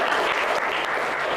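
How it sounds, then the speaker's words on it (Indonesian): A class of students claps for their classmates in a school room, a steady dense wash of applause filling the whole short stretch without pause. "Tepuk tangan untuk teman kita."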